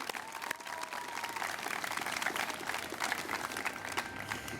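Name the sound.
audience applause at Elyria 200th celebration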